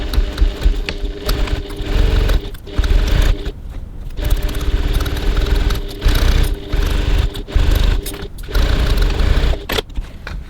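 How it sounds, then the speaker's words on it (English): A sewing machine stitching the base of a boxed handbag in place with a top-stitch length of 2.4, whirring in loud close bursts broken by short pauses over about ten seconds, with no talking. "So now I'm going to stitch the base in place, 1 centimetre, 3/8 of an inch from the edge"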